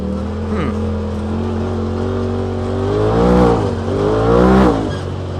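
A Polaris RZR XP Turbo side-by-side running on E85 fuel, its turbocharged engine droning steadily close by, then revving up and rising in pitch twice in high gear.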